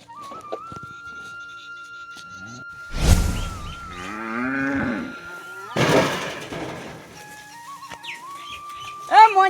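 Cattle moo in a rural Gujarati setting at midday, giving several long, drawn-out lowing calls close by, with birds chirping faintly between them.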